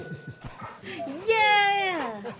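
Torgal, a dog companion in a video game, whimpers while being petted, giving a drawn-out, rising and falling whine that carries over a person's excited talk.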